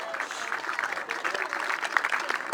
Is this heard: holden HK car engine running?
no